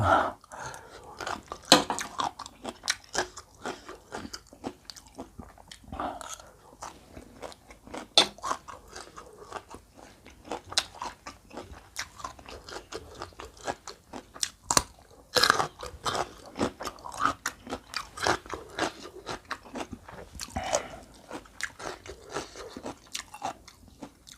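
Crunchy, wet chewing of a spicy Thai khanom jeen rice noodle salad with plenty of fresh vegetables, close up and steady through the whole stretch, with irregular bites and crunches and no talking.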